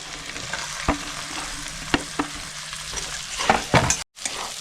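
Chopped onion with ginger frying in a pan for chicken soup, a continuous close sizzle punctuated by several sharp spatula knocks and scrapes against the pan, with a brief dropout near the end.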